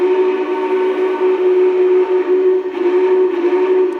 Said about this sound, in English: There's the big boy whistle